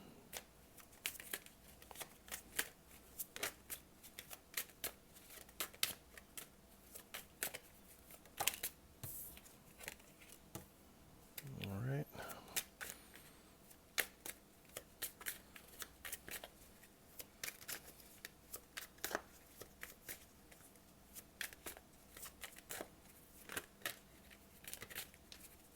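Tarot cards are shuffled in long runs of crisp, rapid riffling snaps close by, with a short scraping sweep near the middle and no voice.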